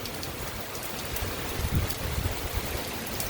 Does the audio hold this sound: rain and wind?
yes